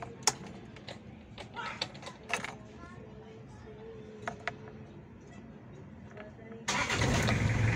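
A Toyota Revo 2L engine, its timing belt cover left off, clicks and knocks faintly under speech before it catches and settles into a loud, steady idle for the last second.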